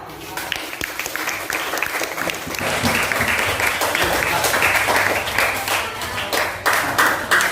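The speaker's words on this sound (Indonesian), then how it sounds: "Dan tepuk tangan." Classroom applause from students during a lesson on sujud syukur, a burst of dense clapping that swells and holds steady for several seconds, with faint voices mixed in.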